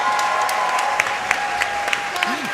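At a Summer Games Done Quick 2015 speedrun event, an audience claps steadily, a sustained patter of many hands under a faint hum.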